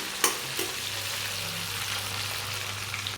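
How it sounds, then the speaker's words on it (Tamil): Sambar onions (shallots) sautéing in hot oil for a fish curry, giving a steady, close sizzle with a couple of sharp utensil knocks at the start and a low hum underneath. "சாம்பார் வெங்காயம் சேர்த்து நல்லா கொஞ்சம் வதக்கி விடுங்க இது நல்லா வதங்கட்டும்"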